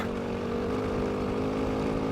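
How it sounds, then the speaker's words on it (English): Single-cylinder dirt bike engine running at a steady idle, a constant low throbbing drone close by with no talking over it. "single cylinder engine, it's plenty torque."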